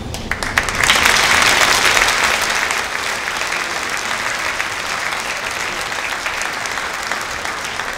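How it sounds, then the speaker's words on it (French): Audience applause at a mayor's New Year wishes ceremony, a dense, steady wash of many hands clapping that swells early and holds at an even level to the end, with no voices over it. "Je crois qu'on peut encore applaudir les personnalités qui étaient présentes ce soir"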